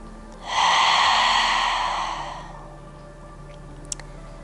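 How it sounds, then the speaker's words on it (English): A single deep cleansing breath, a long audible inhale that swells and then fades into a softer exhale, close and alone against quiet room tone. "Cleansing breath in and out."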